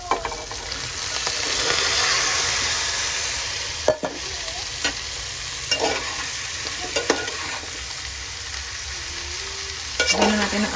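Sliced bitter gourd (ampalaya) fries in a hot pan in a Manila home kitchen, a steady loud sizzle running throughout, with scraping stirs and clacks of a utensil against the pan, no voices.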